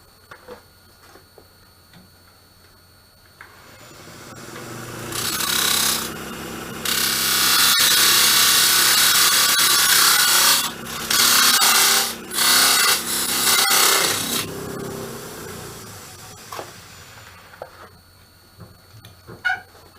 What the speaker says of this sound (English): then square the edge up with a sanding disc.